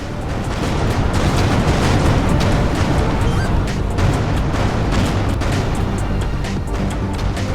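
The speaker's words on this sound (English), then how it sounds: "Vacate this area at once. Explosion imminent." An explosion in the space game Everspace 2 gives a deep, continuous roaring rumble. It stays loud and broad for several seconds with scattered crackling bursts and no voices.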